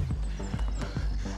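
A horse at a show jumping event, hooves thudding in quick clip-clop beats with a short whinny among them, close and brief.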